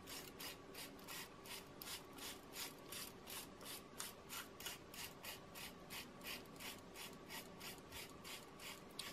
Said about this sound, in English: I do prepare the surface by doing a gentle bit of sanding.